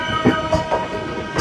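An AC local train running into a station platform on the Bangaon–Sealdah line, a loud, close rumble with a few rhythmic wheel thumps over the rails.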